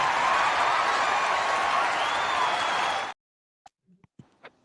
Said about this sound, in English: Can we get this man a round of applause?